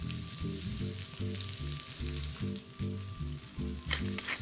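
Steak searing in a hot pan, a loud steady sizzle and spitting fry with a rhythmic pulsing crackle, close and continuous with no talk.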